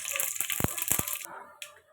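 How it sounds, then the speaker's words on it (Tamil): Mustard seeds crackle and sputter in hot oil, a quick run of sharp pops over a bright sizzle that dies away toward the end. "கடுகு நல்லா பொரியுது."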